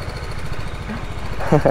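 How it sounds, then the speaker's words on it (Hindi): A motorcycle engine idles just after being started, a steady low chugging throb with a voice breaking in at the end. "बाइक तो स्टार्ट कर ली है"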